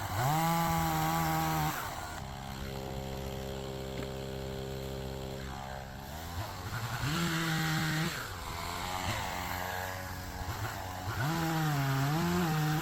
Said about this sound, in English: I will put a clip right here of using that chainsaw.